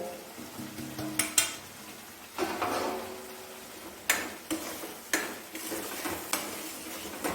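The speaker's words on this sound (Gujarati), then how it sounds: "સરસ રીતે આવી રીતે મિક્સ કરી લેવાનું આ ગ્રેવી" Thick onion gravy being stirred and mixed with crushed gathiya and peanut powder in a pan, soft sizzling under a series of close spoon scrapes and clinks against the metal.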